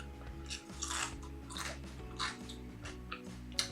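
Crunchy homemade pickled jalapeno peppers bitten and chewed close up, several soft crisp bursts in an uneven rhythm over a steady low background hum.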